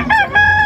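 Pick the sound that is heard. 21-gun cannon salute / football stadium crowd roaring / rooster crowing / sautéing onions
rooster crowing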